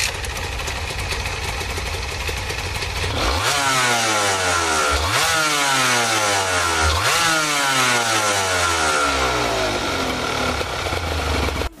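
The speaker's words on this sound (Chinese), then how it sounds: "发动机也改为水冷两冲程 249cc 90度微缸发动机" A Honda NSR250R with a water-cooled 249cc two-stroke 90-degree V-twin idles, then revs hard three times in a row, each blip climbing to a high buzzing wail before dropping back, loud and close.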